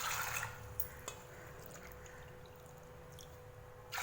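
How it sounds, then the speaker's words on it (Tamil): Water, about two cups, pours steadily into a metal pressure cooker, a faint continuous splashing stream with a few clinks at the start and end. "2 கப் அளவுக்கு நான் தண்ணி சேர்த்திட்டேன்"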